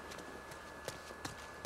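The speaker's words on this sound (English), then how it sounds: "Guess we just continue just to ride the horse" A ridden horse's hooves clop faintly in The Last of Us Part 2, a few soft, spaced thuds under a steady background wash, with no talking.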